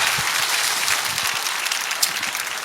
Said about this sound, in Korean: 자, 우리 박수하겠습니다